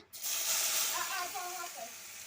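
Chopped onion drops into hot oil in a wok and bursts into a loud hiss that settles into a steady crackling sizzle, close up.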